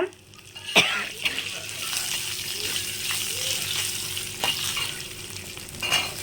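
Garlic cloves and curry leaves fry in a pan, a close, steady sizzle with a few sharp pops and stirring scrapes, a brief cough breaking in near the start.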